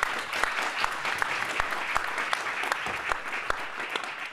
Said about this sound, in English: I know you've just clapped